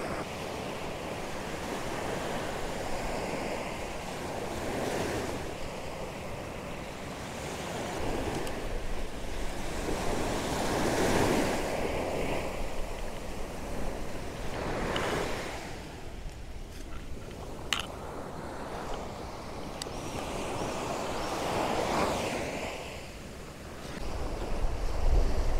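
Waves surge and wash up onto a beach at dawn in repeated swells every few seconds, with steady wind noise buffeting the microphone throughout and no voices.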